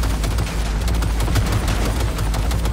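Rapid automatic gunfire in the video game Cyberpunk 2077, a dense, loud, continuous burst of shots with no speech.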